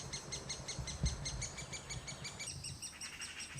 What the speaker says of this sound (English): first bird's back. It's the female. She's feeding the chick.